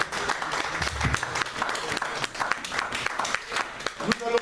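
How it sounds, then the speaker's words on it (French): A church congregation applauding during a worship service, with sustained crowd clapping under a loud voice speaking over it. "Acclamons pour notre Dieu."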